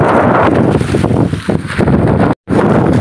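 Strong wind at sea roars and buffets against the microphone, loud and gusty, with a brief dropout near the end before the blustering resumes.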